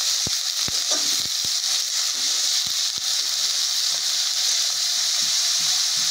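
Shrimp and garlic fry in mustard oil in a wok, giving a steady, loud sizzling hiss that runs the whole time, with a few sharp pops and spatters near the start.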